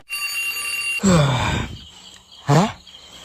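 A steady electronic alarm tone sounds briefly on a train, then a sleepy voice groans twice, the second groan shorter.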